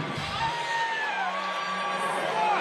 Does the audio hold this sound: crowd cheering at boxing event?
yes